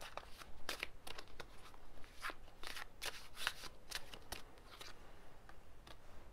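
Oracle cards being shuffled by hand in a run of crisp, rapid riffling snaps and flutters, steady and close, with no talking.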